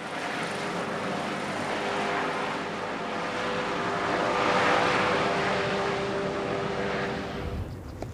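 Steady droning engine of a propeller aircraft flying a patient from Borkum island to a mainland clinic in Leer, a continuous even roar that swells slightly midway and fades at the end.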